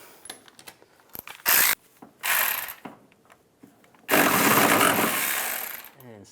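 Ratchet wrench tightening the bolt on a windshield washer reservoir of a 2005-2010 Dodge Dakota, heard as several short bursts of clicking with a longer sustained ratcheting run near the end, close and fairly loud.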